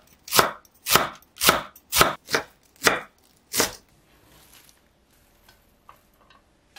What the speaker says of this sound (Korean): 크기가 큰 겉잎은 반으로 자르고 겹쳐서 채 썰어 주시고요.